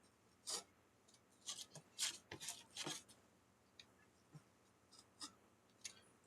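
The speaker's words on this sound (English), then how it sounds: "I'll sand away, probably." Sanding a handmade companion cube model, a series of short, soft rasping strokes in uneven bursts, close and fairly quiet with no talk.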